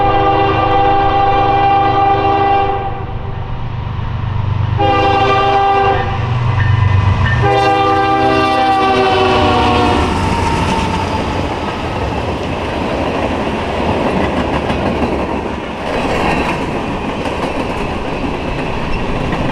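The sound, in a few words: Norfolk Southern AC44 locomotive train passing on CN line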